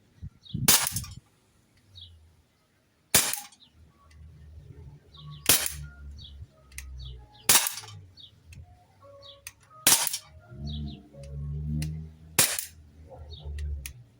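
Six sharp, evenly spaced shots from a Walther Q5 Match .177 air pistol striking bricks, each a crisp loud crack roughly every two seconds with low rumbling background noise between them.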